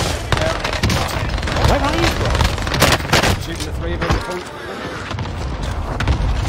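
Cluster strike in a first-person shooter, a dense barrage of rapid explosions and gunfire packed over several seconds, with players talking over the chaos.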